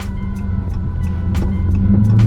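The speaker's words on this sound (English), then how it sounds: "Listen to the engine." A Dodge Charger Daytona 392 V8 driving in manual mode, its engine rumbling steadily and building slightly in loudness, with a few faint clicks over the drone.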